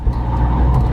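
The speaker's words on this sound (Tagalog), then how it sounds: "nandito na kami sa kotse ni Kuya" Low engine rumble and road hum inside a moving car, steady and close, with no talking.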